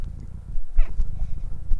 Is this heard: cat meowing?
yes